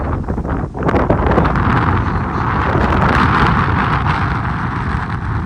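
Cool wind blows steadily across a village home in a rush of broadband noise that buffets the microphone, loud and continuous with no voices.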